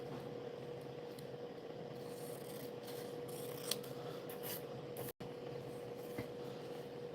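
Scissors cutting paper out of a book-page journal, quiet close snipping and rubbing of paper over a faint steady background hum, with a brief dropout partway through and no voices.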